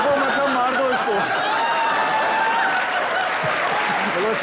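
Studio audience applause on a Hindi TV comedy show, steady and fairly loud, with voices and harmonic shouting or singing running over it throughout.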